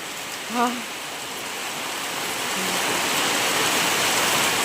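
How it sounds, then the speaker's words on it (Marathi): Heavy rain pours down in a steady, dense hiss that swells slightly louder over a few seconds, with a brief tonal call near the start and no talking. "मुसळधार पाऊस पडतोय बघा"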